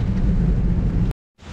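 Heavy rain pours steadily at Langkawi island in Malaysia, a dense, loud rushing wash that cuts off abruptly into silence before resuming.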